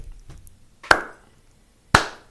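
Two single sharp hand claps about a second apart, close and fairly loud, each ringing briefly in the room, imitating an American football coach's clap.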